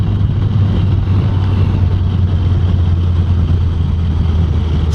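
A motorcycle engine running steadily while being ridden on a road in Holland, a loud, close, continuous low drone with constant wind rush and no talk.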